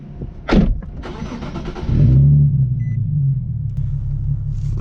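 A Nissan 370Z with a Greddy GPP RS-Race exhaust starts with a whirr and a sharp crank, then settles into a loud, deep, rumbling idle heard close from inside the car.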